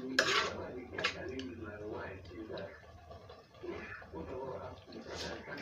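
Steamed meat being stirred in a cooking pot, with metal utensil clinks and scrapes against the pot at the start and intermittently, mixed under a speaking voice and kitchen background.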